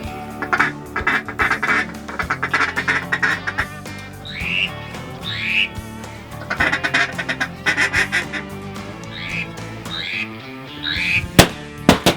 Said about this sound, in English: we had one old mallard come in there